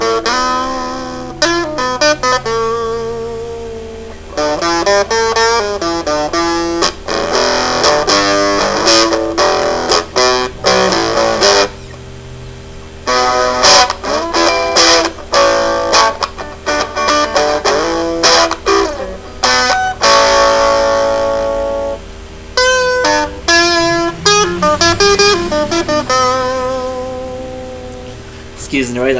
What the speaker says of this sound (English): I'm gonna show it to you with an electric guitar and a diddly bow.